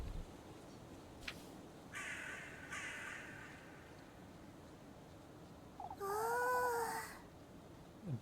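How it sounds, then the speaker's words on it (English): Crows caw in a short burst of several harsh calls near the end, with quieter outdoor sounds and faint noises earlier. "There's so many crows."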